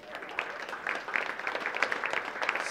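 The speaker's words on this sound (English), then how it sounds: "Give them a round of applause." An audience applauds Pastor Mel and Troy Walker at an Ipartner event, a steady wash of clapping through the whole stretch with crowd noise and a few louder peaks, no one talking over it.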